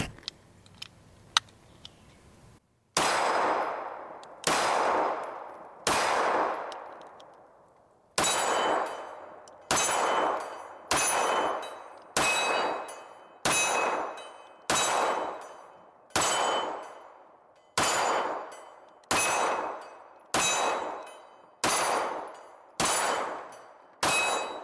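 Shots from an Alpha Foxtrot Romulus pistol ring out on a firing range, a string of loud single reports at a steady, unhurried pace, each followed by a long reverberant decay, after a few faint ticks at the start.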